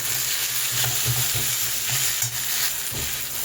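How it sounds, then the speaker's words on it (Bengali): Tomatoes and green chilies stir-fried with onions in a hot pan make a loud, continuous sizzle, with the spatula scraping and knocking in a steady rhythm close by. "টমেটো আর কাঁচা লঙ্কাটা দিয়ে দিয়েছি এবার একসাথে এটাকে আমি একটু কষাবো"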